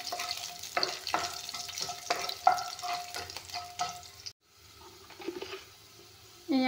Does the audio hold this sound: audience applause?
no